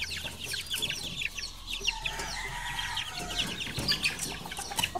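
Gamecock roosters at a farm clucking and calling over one another, with bursts of crowing, moderately close and busy throughout.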